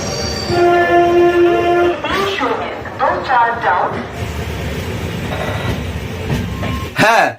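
A train stands at Bardhaman railway station at night, with a long tonal horn-like blast followed by squealing, pitch-sliding metallic tones and a rumbling station backdrop, ending in a sharp burst.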